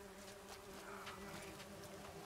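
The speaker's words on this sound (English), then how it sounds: "Oh, more bees." Bees buzz in The Witcher 3, a steady droning hum with a few louder passes as insects move nearby, continuous and moderately close without speech.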